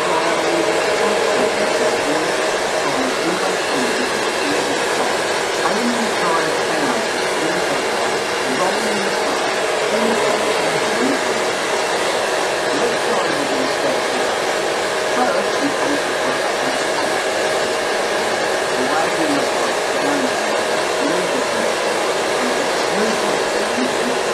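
A hair blow dryer drying a customer's hair in a salon, a loud steady whooshing roar running continuously close by.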